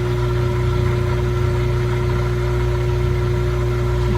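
Frigidaire laundry center washer motor running steadily with a constant hum and a strong tonal whine, even and unbroken throughout, close by with no talking.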